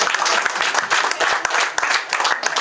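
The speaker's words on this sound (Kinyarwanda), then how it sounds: "umuha amashyi menshi cyane." Applause from an audience at a training-centre graduation ceremony, a dense, steady wash of many hands clapping close by for the full stretch without a break.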